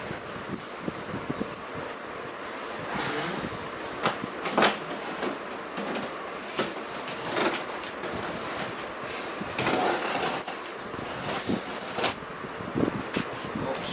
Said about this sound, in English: We got our trusty knife and we'll open this.